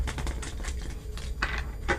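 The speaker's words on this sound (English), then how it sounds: "I'm going to shuffle a little bit more, okay?" Tarot cards are shuffled in a deck, producing a continuous flurry of soft papery riffles and taps at close range, with a few louder bursts of card shuffling toward the end.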